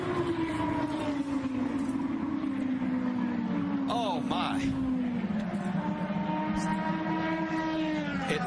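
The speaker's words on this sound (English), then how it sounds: "Trouble, contact, and a huge crash." IndyCar race cars at Las Vegas whine at high revs in a rising and falling chorus of engines as several cars crash, with a commentator talking over the steady engine noise.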